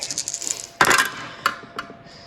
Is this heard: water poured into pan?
no